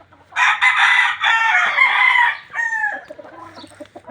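Loose local banded gamefowl roosters, heard close and loud: one rooster gives a full crow, then clucking and short calls follow.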